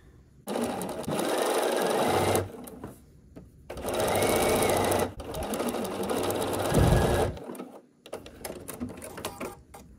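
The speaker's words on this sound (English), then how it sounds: "So I'll hold it still, flip it over, and we'll sew on this line here." A sewing machine runs in three long, steady bursts of rapid stitching along a line on a foundation paper pieced star quilt block, loud and close, with short pauses and light handling noises between runs.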